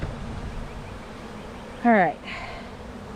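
Honey bees buzz around a hive with a faint, steady insect drone in the background. Someone briefly speaks partway through.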